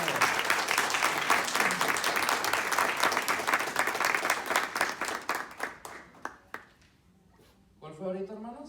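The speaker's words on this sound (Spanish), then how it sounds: "Dale un aplauso fuerte al Señor." A church congregation claps loudly and steadily during a Spanish-language sermon. The applause thins into scattered claps and then stops, and a voice begins speaking as it dies away.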